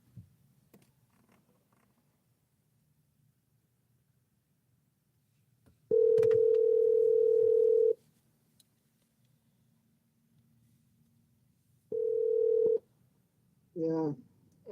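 Phone line tones after a call is forwarded to voicemail: a loud two-second steady beep, a pause, then a shorter beep and a brief warbling tone, with faint background hiss between.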